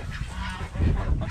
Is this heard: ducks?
yes